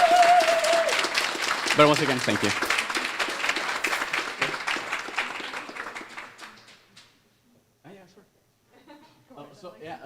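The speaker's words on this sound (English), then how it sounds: "another round of applause for all of us" A conference audience at a student presentation event on AI in health applauds loudly and steadily for about six seconds. The clapping then thins and fades out, and a voice speaks briefly over the quiet afterward.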